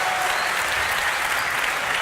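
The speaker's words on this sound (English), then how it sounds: "that's your Navi applause right there" Steady, dense audience applause fills a DreamHack Winter 2013 esports arena during a Na'Vi versus Alliance lower bracket final, a wide roar of clapping heard from the crowd.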